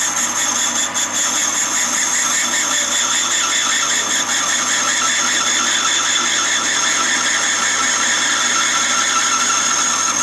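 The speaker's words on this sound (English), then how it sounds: "And you've just got like a grinding stone on there." Grinding stone refacing a very hard valve from a VW T5 1.9 TDI AXB cylinder head: a loud, continuous high squealing whine over a steady motor hum, consistent throughout with no voices.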